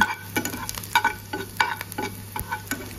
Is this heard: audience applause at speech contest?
no